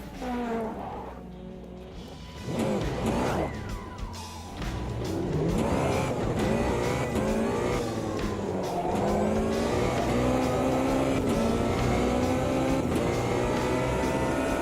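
A race car in the Automobilista 2 racing game accelerates hard, its engine note climbing through rising revs and gear changes, loud and close, with faint talk over it early on.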